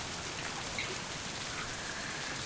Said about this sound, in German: Dann tun wir den Regen mal stoppen.